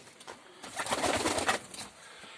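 Domestic pigeons in a Kyrgyz fancier's loft coo softly, a burst of low rolling coos swelling in the middle and fading, close by with no talking.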